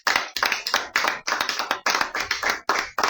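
Audience applause at a book talk in a bookstore, a steady burst of close, dense clapping that goes on for about three seconds with no voices over it.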